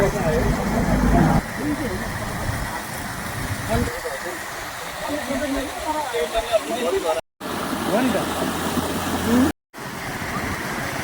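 Loud rushing stream water, swollen by upstream rain, with a vehicle engine rumbling at the start and people talking over the flow; the sound cuts out briefly twice.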